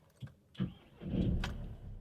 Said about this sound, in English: Let's just start the engine.